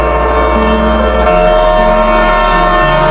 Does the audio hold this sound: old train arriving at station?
yes